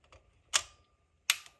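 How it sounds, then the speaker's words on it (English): Two sharp mechanical clicks from the shutter release of a vintage Kodak camera, close and crisp, spaced under a second apart in an otherwise quiet room. "and that was your shutter release"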